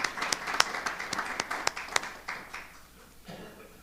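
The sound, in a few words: audience applause at board meeting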